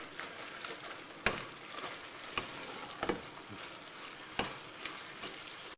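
Tomato paste cooking in a pot of Cincinnati-style chili, a soft, steady sizzle and bubble, close and quiet, broken by a few spoon scrapes and knocks against the pot.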